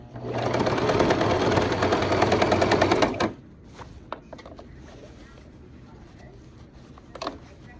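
A sewing machine stitches steadily and loudly for about three seconds, then stops, leaving quiet room noise with a few faint clicks and handling sounds.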